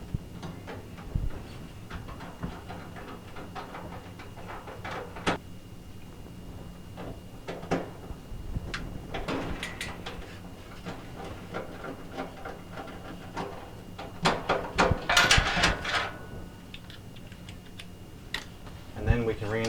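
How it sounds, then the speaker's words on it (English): Two 1/4 inch screws are driven back into a Kenmore dryer's element mount, with scattered close metallic ticks and clicks of the tool and parts, plus a burst of rattling near the middle, while a person talks throughout. "you can reinstall your two"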